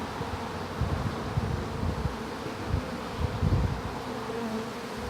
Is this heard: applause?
no